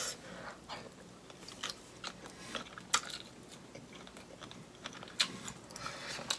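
Faint, close crunchy bites and chewing of shrimp cooked in Jamaican oxtail gravy, scattered soft clicks and wet mouth sounds with no talking.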